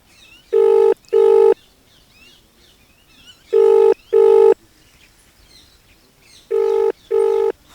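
A telephone ringback tone sounds while a call is placed, three pairs of short, loud, clean electronic tone bursts separated by gaps of faint background noise.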